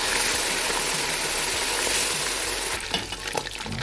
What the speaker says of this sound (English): My oil is hot enough. Fry my fish first.